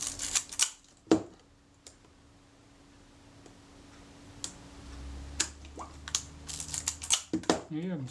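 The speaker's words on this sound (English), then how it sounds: "I can still get that shutter to release" Shutter release of a partly disassembled Kodak Retina IIIC camera, heard as a few sharp mechanical clicks and snaps scattered across the clip, close up, with quiet handling noise between them.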